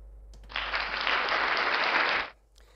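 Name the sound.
applause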